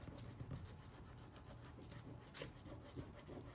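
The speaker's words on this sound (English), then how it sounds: "using my burnishing pad as well" A burnishing pad rubs back and forth over a wooden Christmas door hanger, giving soft, faint, scratchy strokes in a steady rhythm, alone and close up.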